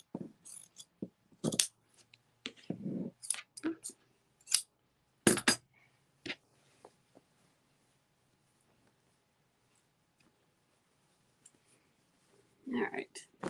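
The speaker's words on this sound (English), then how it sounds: "So I'm cutting through 4 layers right now because I'm going to make 2 of these." Scissors cut through four stacked layers of fabric for a Valentine dog scarf, giving a run of close, crisp snips over several seconds, then a quiet pause and a final cluster of cuts.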